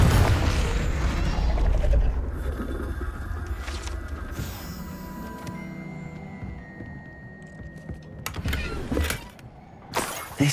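Confringo fire-blast spell cast in Hogwarts Legacy during a nighttime astronomy class: a loud booming burst opens, then layered whooshing and mechanical game effects fade, with another sharp blast near the end.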